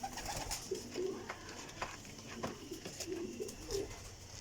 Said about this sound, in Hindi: लाल तेज़ अखां दा कबूतर जे।